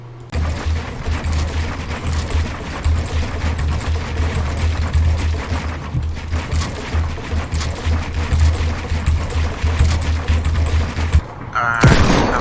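Rapid video-game gunfire crackles almost continuously for about eleven seconds over a low droning bed, fairly loud and close, then stops abruptly near the end, leaving a brief different noise.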